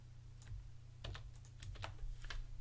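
Keystrokes on a computer keyboard during Unity 3D scripting, scattered taps in short bursts, close and fairly quiet over a low steady hum, with no talking.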